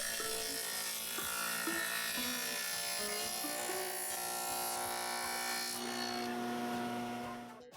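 A power tool cuts a 3/4 inch wide, 5/16 inch deep dado groove into a wooden kitchen base cabinet panel, giving a loud, continuous buzzing, rasping cut that runs for about seven seconds before tapering off.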